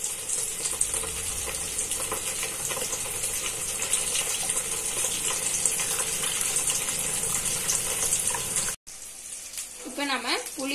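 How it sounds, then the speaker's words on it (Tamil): Tamarind water is strained for Chettinad green chilli pickle, making a continuous close trickling, sloshing wash that ends abruptly, followed by a few soft clinks and a brief voice. "இப்ப நம்ம புளிய நல்லா வடிகட்ட போறோம்."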